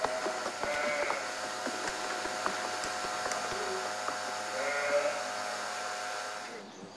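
Sheep on a dairy sheep farm where the animals stand in an open stall, bleating now and then at moderate distance over a continuous steady background hum.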